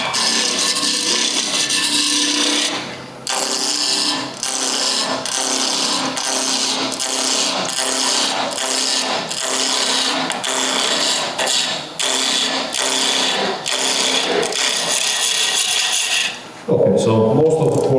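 A ball gouge roughing out a wooden blank on a spinning lathe, producing a steady loud scraping rasp broken by rhythmic dips as the tool makes repeated passes along the wood.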